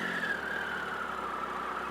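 A parked motorcycle's engine is held at steady high revs while its battery charging is checked, giving a continuous loud drone with a sustained whine and no pauses.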